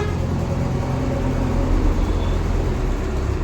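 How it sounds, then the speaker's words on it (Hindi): Steady low rumble of road traffic passing outside a roadside boutique, a continuous wash of vehicle noise with no distinct pass-bys and no voices. "हमारा बुटीक ऑन रोड है तो थोड़ी गाड़ियों की आवाज़ से डिस्टर्बिंग हो रही है"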